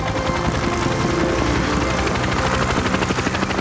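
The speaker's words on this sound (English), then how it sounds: "The chopper's all set." A helicopter's rotor and engine drone loudly and steadily throughout, with a continuous chopping throb and no voices over it.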